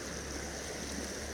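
Reedy Creek near Eldorado flowing steadily around an island, a close, continuous broadband rush of water with no pauses and no voices.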